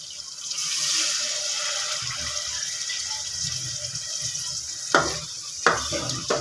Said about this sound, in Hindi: तो अब इसमें मैं पानी ऐड कर रही हूँ